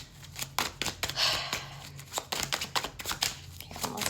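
Tarot cards being shuffled by hand for a reading, close and crisp, with repeated riffling and slapping bursts in an uneven rhythm and no talking.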